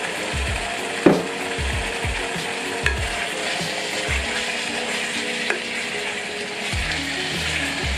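Chicken frying in a pan with black pepper and turmeric, a continuous close sizzle with occasional spatula scrapes and knocks as it is stirred and mixed.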